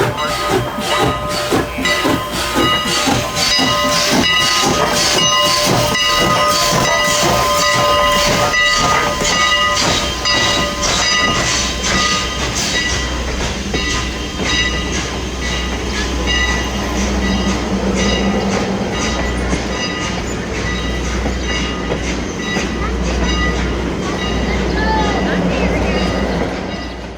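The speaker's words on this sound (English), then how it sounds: "allow the train to safely proceed to the station" An excursion train rolls into a station with rhythmic clattering and a hissing, whistle-like squeal that fade into a lower rumble as it slows.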